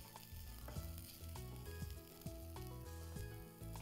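Browned onions frying with crushed ginger and garlic in a pan for tawa pulao, a dense, continuous sizzle with stirring scrapes and clinks, close and without talk.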